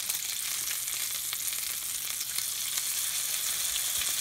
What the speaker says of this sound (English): since we're cooking the bacon